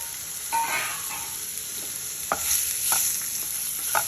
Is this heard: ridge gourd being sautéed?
yes